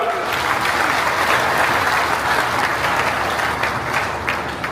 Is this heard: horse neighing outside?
no